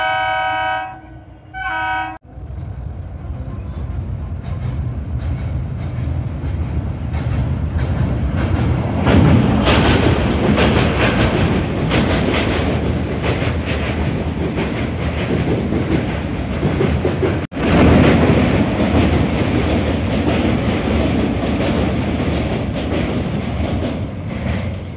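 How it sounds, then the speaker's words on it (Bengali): A train rumbles across the Dwarkeswar rail bridge at Arambagh over a farmed river, a loud sustained roar of wheels and rattling cars that fills most of the stretch, with a brief horn-like tonal burst at the very start. "ট্রেনটা চলে গেল"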